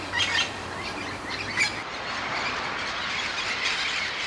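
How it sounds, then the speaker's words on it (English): A wild festive parrot, an Amazon parrot of the Orinoco Delta region in Guyana, gives a few squawking calls over a steady, dense outdoor background. "This is the festive parrot"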